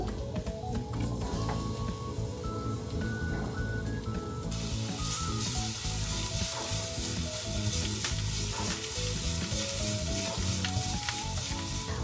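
Garlic frying in oil in a pan gives a loud, steady sizzle and hiss, with stirring scrapes running through it and a brighter burst of sizzling about midway.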